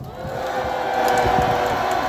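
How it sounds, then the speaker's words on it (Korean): A political rally audience cheers and applauds to welcome a young speaker, a swelling roar of voices and whoops with claps beneath, loud and sustained. "우리 조선영 청년을 큰 박수로 모시도록 하겠습니다"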